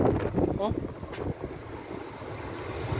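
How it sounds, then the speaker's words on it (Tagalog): Typhoon-strength wind roars and buffets the microphone continuously, with brief voices and a faint whistle mixed into the blustery rumble. "parang malakas masyado talaga yung hangin"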